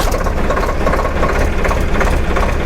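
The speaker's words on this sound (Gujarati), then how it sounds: "તો ચાલો મિત્રો આ સ્ટાર્ટ કરીએ" A Swaraj 855 FE tractor engine with the gearbox in neutral runs loud and close, a steady low diesel rumble with no talk over it.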